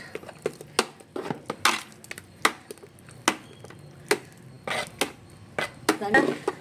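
Rice flour batter for arisi vathal is stirred in a pot, giving irregular close scrapes, taps and clinks of the spoon against the metal at a quiet level.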